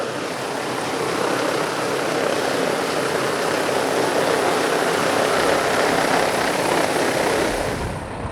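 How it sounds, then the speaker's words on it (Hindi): A helicopter landing on a helipad roars with a continuous, loud, broadband rotor and engine wash, steady and close for the whole stretch with no voices over it. "हेलीकॉप्टर अब जो है हेलीपैड पे लैंड करने को तैयार है"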